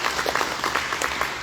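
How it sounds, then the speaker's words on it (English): A crowd at a veterans memorial service in Deer Park claps in steady, moderately distant applause that holds throughout. "let's give your father a round of applause."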